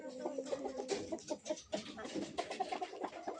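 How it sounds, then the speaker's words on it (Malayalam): Backyard chickens, including a black-feathered hen and a large rooster, cluck busily and fairly close, with a steady run of overlapping calls and a low murmur of background noise. "എനിക്ക് കോഴിയുണ്ട്."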